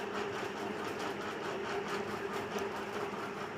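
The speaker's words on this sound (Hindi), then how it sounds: "यहाँ से हम सिलाई चलाना शुरू करेंगे" A sewing machine runs steadily while stitching a double-cup blouse from a corner seam, a fast even whir at close range with no voices.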